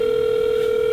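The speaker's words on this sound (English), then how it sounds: "I recently gave them a phone call." A steady, loud telephone tone holds one unbroken pitch for about a second, with no voices.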